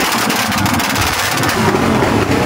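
Loud racing exhaust on a modified vehicle at a motor show, a dense continuous engine roar with rumbling low end held steady close by, no talk over it.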